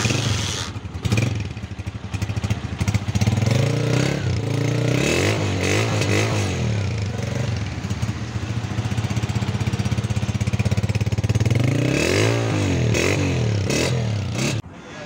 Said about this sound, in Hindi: सबसे पहले हम इसके ओरिजिनल साइलेंसर की साउंड चेक कर लेते हैं।